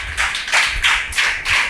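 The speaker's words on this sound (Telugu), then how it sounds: "చప్పట్లు కొట్టండి గట్టిగా" A congregation claps loudly at a church sermon, a few strong rhythmic waves of hand claps close by with no talking over them.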